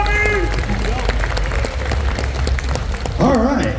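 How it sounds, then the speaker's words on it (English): Audience at a tattoo expo pinup pageant applauding and cheering loudly, a dense, close wash of clapping under a voice and whoops, with a shrill cheer rising near the end. "Give a hand of applause, please, and thank you so much."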